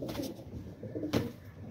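Pigeons coo softly in low, rolling murmurs, a couple of calls overlapping close by against a quiet background.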